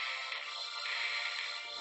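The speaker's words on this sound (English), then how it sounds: "we can choose various options for the ringtones and vibrate when people call or message" A cheap smartwatch phone plays a thin, tinny ringtone as one steady tone. It sounds faint and continuous, with no talking.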